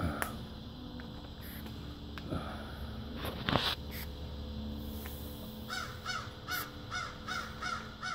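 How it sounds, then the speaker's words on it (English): Crows caw repeatedly beside a river, harsh calls rising above steady outdoor background noise, with a louder burst near the middle and a quicker run of caws toward the end. "Crows were a little noisy."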